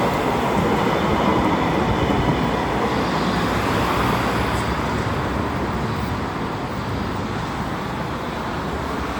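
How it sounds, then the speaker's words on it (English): A German tram approaches a stop, a steady broadband rolling rumble and rail noise that stays loud and fairly near throughout, with no voices. "The train will be coming now soon."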